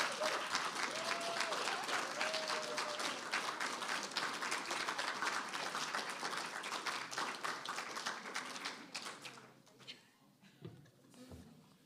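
Sustained audience applause after a faculty reading event, dense and steady for most of the stretch, then thinning into scattered claps and fading out near the end.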